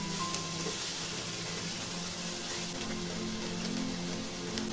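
Chopped Malabar spinach fruit fries in a pan with garlic, onion and salt, making a soft, steady sizzle with faint stirring clicks and a low background hum.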